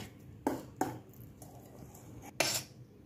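White and dark chocolate being stirred with whipped cream in a bowl for a strawberry kunafa, giving three sharp clinks of a utensil against the dish over quiet background scraping.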